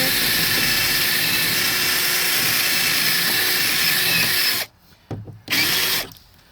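A loud, steady power-drill whine runs continuously as it removes door screws from a Volvo S60, then cuts out abruptly, with a brief restart and a second stop near the end.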